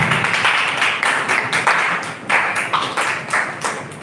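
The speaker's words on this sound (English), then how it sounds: "Please, let's clap." An audience at a health summit claps together for several seconds, a dense, uneven patter of hands with small surges, heard alone without voices.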